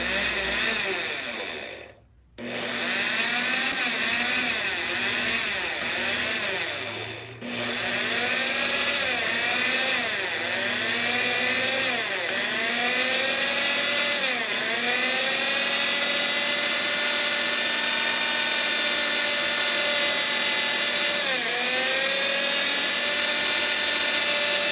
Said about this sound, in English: when you're drilling into metal, there's some metal or some incidents where you want to drill slow. So I'll drill slow on this one.